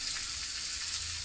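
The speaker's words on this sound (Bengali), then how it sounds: "গাওয়া ঘি দিয়ে নাড়তে হবে একটু" Semolina sizzles in hot ghee in a pan as it is stirred for suji pulao, a steady, close, bright frying hiss with no distinct clinks and no talking.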